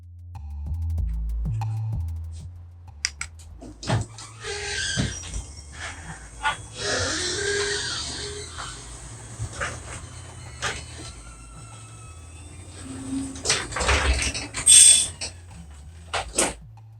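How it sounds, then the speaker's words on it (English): A Chamberlain B970 garage door opener motor runs, a long mechanical whir with rattles, clunks and a squeal as the door travels, starting and ending with knocks. "The Chamberlain B970 retail garage door opener motor."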